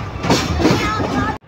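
A train rolls into Rahim Yar Khan railway station in Pakistan, a steady loud rumble with rhythmic wheel clatter and broadband rail noise filling the clip, then cutting off abruptly near the end.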